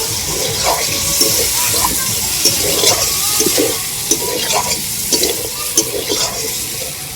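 Water poured into a hot pan of spiced, fried potatoes for potato paneer curry sets off a loud, continuous rushing sizzle and bubbling, with small clattering knocks scattered through it.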